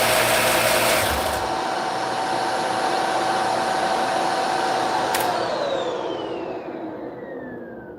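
A vacuum cleaner motor runs with its cover removed, giving a loud, steady whine and hum close by that cuts down partway through and winds down gradually, with no talk over it.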